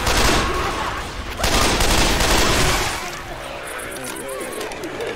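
Dense Left 4 Dead 2 gunfire in a chaotic co-op firefight, rapid overlapping shots with crashes and explosions, loud throughout with players talking over it.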